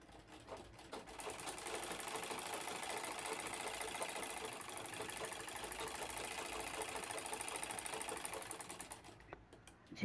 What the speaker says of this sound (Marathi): अगदी काठावर शिलाई घ्यायची झिपला.